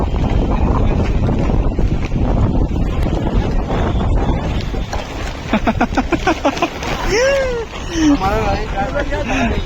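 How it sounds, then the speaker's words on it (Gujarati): Strong wind buffets loudly, flapping a tarpaulin with a rough rustle, and people talk and shout over it. "તાડપત્રી પોરી તો કરી દીધી ગાઈસ પણ પવન ના લીધે કાબુમાં નથી રહેતી"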